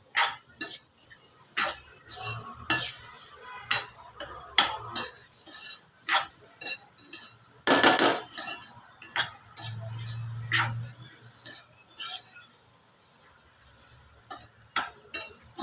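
A spoon mixes powdered sugar into modak filling in a pan, making a series of irregular close scrapes and clinks against the metal, with quiet gaps between strokes and no speech.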